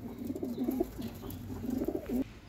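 A high flyer pigeon coos close by in a rhythmic series of low, throaty rolling calls, several phrases in a row with brief breaks, over faint background noise.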